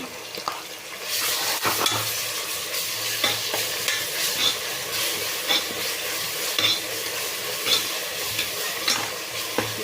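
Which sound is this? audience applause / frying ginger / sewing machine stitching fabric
frying ginger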